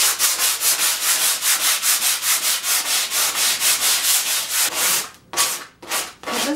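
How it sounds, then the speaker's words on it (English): Rhythmic back-and-forth sanding by hand, a harsh gritty rasp repeating steadily and close, then a few slower, uneven strokes at the end. "I'm not sanding off this whole surface"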